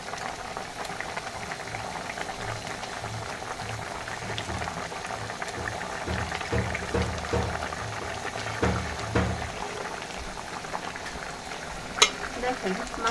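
Fried tilapia pieces slide into a simmering bottle gourd greens curry, giving a steady low bubbling boil with soft stirring clatter and a few sharper clinks, ending with one brief knock.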